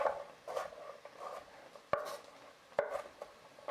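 A knife chops vegetables on a cutting board in a few separated strikes, with quieter scraping between them, close and fairly soft.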